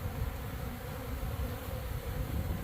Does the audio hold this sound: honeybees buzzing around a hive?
yes